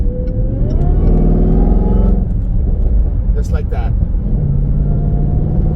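A Jaguar F-Pace SVR engine revs up close, climbing in pitch and then dropping back to a throaty rumble, with someone speaking briefly over it.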